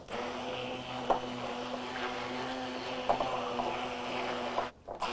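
A hand mixer whirs steadily through a sweet blintz filling of farmer's cheese, a continuous close motor drone with faint rhythmic knocks of the beaters against the bowl, briefly cutting out near the end.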